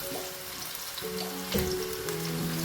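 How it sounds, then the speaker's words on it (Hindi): Garlic-ginger paste fries in about one and a half tablespoons of oil for a chicken and vegetable spaghetti, with soft sizzling mixed with clinks and a watery shuffle as it is stirred, close by and without speech. "ये हमने फ्राई कर लिया लहसुन को"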